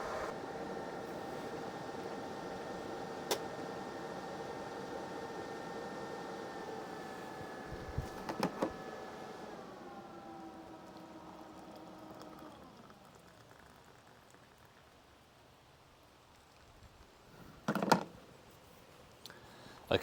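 An electric kettle whirs as it boils water off grid, a steady hum with rising tones that shifts and fades near the end, followed by a few clicks and knocks.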